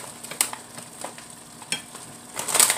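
Food sizzles and bubbles in its own juice in a pan on a home stove, a soft steady crackle with a few sharper pops and stirring scrapes, close and fairly quiet with no talk.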